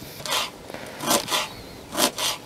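A knife chops fresh dill leaves on a board for a salad of overgrown cucumbers, giving four soft, crisp cuts at an even pace, close and clear with no talk.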